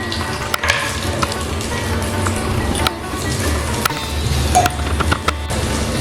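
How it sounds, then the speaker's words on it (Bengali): Whole spices sizzle in hot leftover oil: two cinnamon sticks, two opened small cardamom pods, two cloves and a quarter teaspoon of cumin seeds. A close, steady crackling fry with scattered pops and the odd utensil click. "ওই বেঁচে যাওয়া তেলে আমি প্রথমে ফোড়ন দিয়ে দিচ্ছি 2 স্টিক দারচিনি, 2 ছোট এলাচ মুখ খুলে দিয়েছি, 2 লবঙ্গ আর 1/4 চা চামচ গোটা জিরে"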